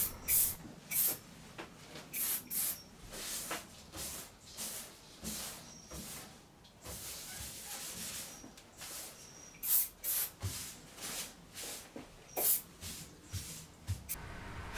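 Etch primer is sprayed onto a freshly wiped panel of an AC 2 Litre car under restoration. Short hissing spray bursts start and stop with brief pauses between them, fairly quiet and close, with no talk.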